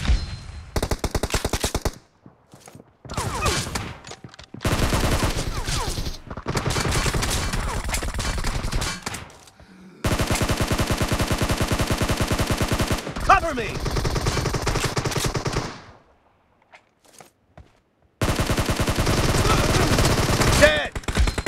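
Gunfire in PUBG, loud rapid automatic bursts in several long stretches separated by short silences, dense, sharp repeated shots close up.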